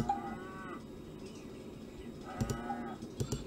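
Two soft cow moos in a video game, one at the start and another a few seconds later, quiet over a faint background.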